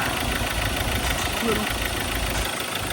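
A repaired Ford Everest engine idles steadily and close by, with a broad, even rumble and no clear misfire, while a compressor runs nearby.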